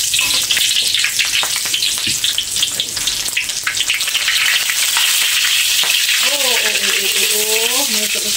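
Lemongrass frying in hot oil in a pan, loud continuous sizzling with sharp pops and crackles throughout; a voice speaks briefly near the end.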